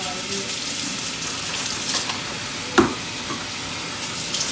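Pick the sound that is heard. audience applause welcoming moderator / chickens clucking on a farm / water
water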